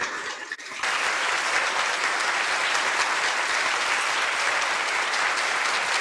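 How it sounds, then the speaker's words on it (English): Brief quiet murmur, then a sudden burst of full audience applause that stays loud and even for about five seconds at a talk on quartz crystals and crystal skulls. "Let's have another round of applause for Nia and Gentle Bear."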